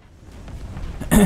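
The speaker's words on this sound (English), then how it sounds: "That explosion radius isn't very far." An explosion in Titanfall 2 erupts as a sudden loud, broad blast near the end, after a stretch of quiet rumbling game sound.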